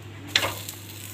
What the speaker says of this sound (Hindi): मैं रोटी डाल रही हूँ तवे के ऊपर